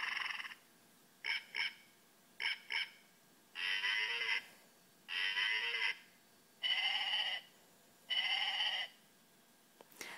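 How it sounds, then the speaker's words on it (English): A Giga Pets Plus Giga Farm handheld toy plays a sequence of electronic farm animal calls: a few short chirpy blips, then four longer bleating tones, each about a second long with short gaps between, close and clear with no talking. "And then you'll hear the sounds of the animals."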